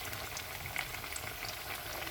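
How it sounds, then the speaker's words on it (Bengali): Shrimp pakoras fry in hot oil, giving a quiet, steady bubbling crackle close by with no talking. "পাকোড়াগুলো ভাজা হইতেছে।"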